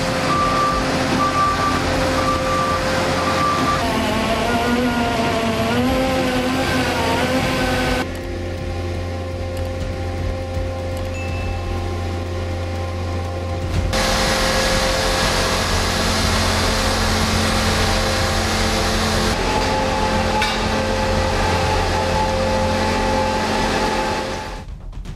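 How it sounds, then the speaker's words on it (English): A livestock feed mixer vehicle with a 200-horsepower engine runs with a continuous heavy engine rumble and repeated electronic reversing beeps, its revs shifting between sections. "With its powerful 200-horsepower engine, the vehicle mixes feed for livestock quickly and accurately"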